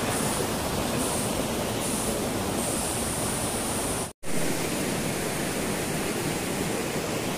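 A river rushes through a Kashmir forest in a dense, steady roar that stays constant and close, cut by one abrupt split-second dropout midway before the flow resumes.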